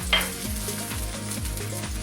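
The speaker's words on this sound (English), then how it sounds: "got a little spatula, just want to push these around, make sure it gets nice and toasty in here" Zucchini pieces sizzle steadily in a hot pan while a spatula scrapes and pushes them around in a few short, close strokes.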